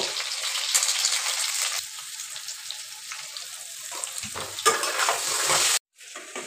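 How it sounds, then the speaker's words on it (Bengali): Potatoes fry in a pan for a chicken curry, sending up a loud, steady sizzling hiss with stirring scrapes that swells again before cutting off abruptly near the end, with no talking. "আলুটাকে ভেজে নেবো"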